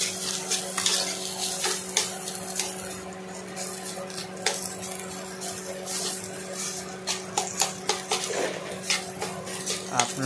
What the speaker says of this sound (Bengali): কুচানো পেঁয়াজগুলো দেওয়ার পরে ভালোভাবে নাড়াচাড়া করবেন।